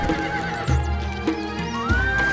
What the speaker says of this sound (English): خيولنا جاهزة.